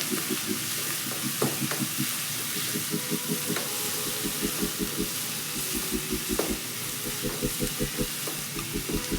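Turmeric is stirred into a frying tomato mixture in a pan for Karnataka-style tomato chitranna, with a steady sizzle and hiss under rhythmic scraping strokes of a spoon.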